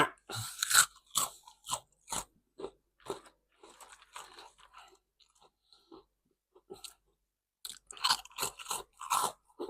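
Crunchy bites and chewing of crispy mixed-flavour Thai rice crackers, heard up close. Bursts of loud crunches come at the start and end, with softer, sparse chewing between and no talk.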